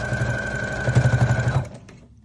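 An automatic sewing machine runs without a pedal, stitching elastic into sweatpants: a steady mechanical whir with a rapid rhythmic needle thump that cuts off abruptly near the end.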